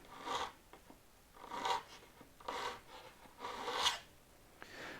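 Rhythmic scraping of wood with a hand tool while working on an antique stop chamfer hand plane, in four or five strong rasping strokes with quieter pauses between them, heard alone without talk.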